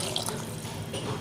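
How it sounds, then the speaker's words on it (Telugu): Water is poured into a pot of sambar mixture, a soft, brief splashing trickle heard up close and fairly quiet. "ఇప్పుడు దీంట్లో వాటర్ యాడ్ చేసుకుందామండి"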